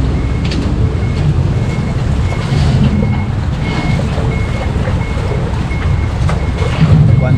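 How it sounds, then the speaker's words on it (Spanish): A car rolling onto a small single-vehicle river ferry platform (chata) in Ayacucho's VRAEM region, Peru, with steady reversing beeps repeating over a continuous low engine and ambient rumble. "Ya está entrando ese carro."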